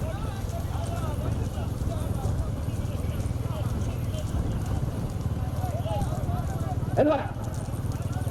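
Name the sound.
bullock cart race, hooves of racing bulls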